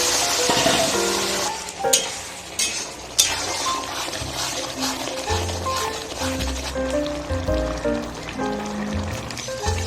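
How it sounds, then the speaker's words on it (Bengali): Boiled vegetables tossed into hot oil with bay leaf, dried chilli and nigella seeds for a spinach dish sizzle loudly, with clattering stirs and bursts of spattering. "এখন এই সিদ্ধ করা সব সবজিগুলো দিয়ে দিচ্ছি এই তেলে।"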